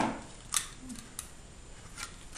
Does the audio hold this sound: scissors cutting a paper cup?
yes